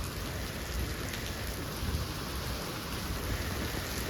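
Heavy rain pours down during a storm, a dense, unbroken hiss of drops striking surfaces, loud and steady throughout with no voices.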